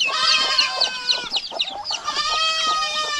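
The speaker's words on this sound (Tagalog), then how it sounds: "Marami na po tayong sisiw dito ng manok" Hens cluck close by while chicks peep in a high, steady chorus, the calls overlapping continuously.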